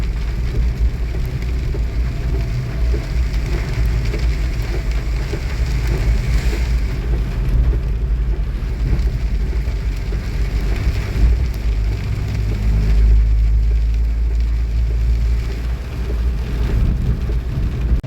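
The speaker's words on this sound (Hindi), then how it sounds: "हमें रास्ते में कितनी सारी बारिश मिली है" Heavy rain pours steadily during travel by train, a dense, continuous rushing wash over a deep rumbling hum of the moving carriage, with no talking.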